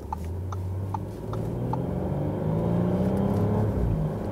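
A 2018 Audi A8L 55 TFSI with its 3.0 engine pulls hard after a downshift, a steady, loud mechanical drone with a low rising tone that swells slightly toward the end.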